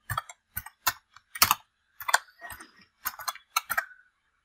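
Keys clack on a computer keyboard in short irregular bursts, close and crisp, with brief pauses between groups of strokes.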